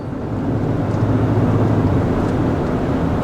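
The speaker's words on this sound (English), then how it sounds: "Yeah, that sound is coming from the exhaust brake." A diesel pickup truck towing a load with its exhaust brake engaged, giving a dense, rough low rumble with a continuous droning roar, steady and fairly loud throughout.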